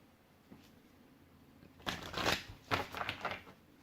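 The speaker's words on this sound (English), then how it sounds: "Oh, come on, I can't shuffle this deck." A deck of cards being shuffled gives several quick riffling, papery bursts close by, after a quiet start with a small tap, clustered into two or three rapid flurries.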